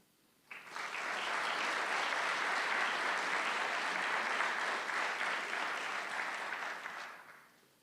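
Audience applause at a senior honors award night, starting abruptly and holding a dense, steady roar of clapping for several seconds before tapering off; no voices over it.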